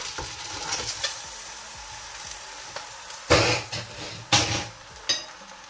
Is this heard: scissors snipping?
no